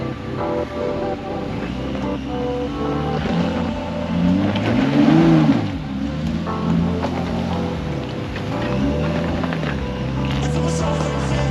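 An off-road vehicle's engine labors up a rocky mountain pass trail in Alberta, revving steadily and surging in pitch as it climbs a rock ledge, loud and close throughout.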